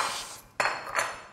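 Metal spoons and cutlery clink against plates while a meal with coffee and sambal terasi is served, two sharp clattering bursts close by, the second followed by a ringing tail, with no talk.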